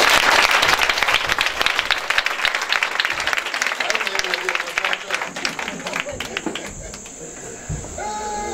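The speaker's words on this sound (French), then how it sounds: "On va acclamer le Seigneur" A church congregation applauding and cheering to acclaim the Lord, loud dense clapping and shouting that slowly thins and fades, with voices carrying through it.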